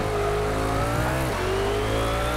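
A Nissan race car in the Need for Speed Shift 2 racing game screams along at high revs. The loud engine whine climbs and shifts pitch continuously, with faint tire squeal and no talk.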